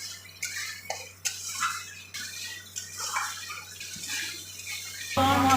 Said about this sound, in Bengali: মশলাটা ভালোভাবে কষিয়ে দিচ্ছি। মশলাটা কষুক, যতক্ষণ না তেল বেরোচ্ছে ততক্ষণ আমি কষে যাব।